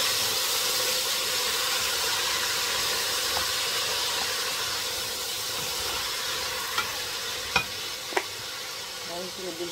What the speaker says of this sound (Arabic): انا هنزل عليها بالفاصوليا.